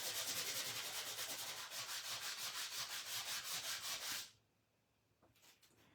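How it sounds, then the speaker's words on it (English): A sanding block rubs colour off a stamped paper craft piece in quick back-and-forth strokes, close and rhythmic for about four seconds, then stops, followed by a few faint rustles. "I know I have a sanding block."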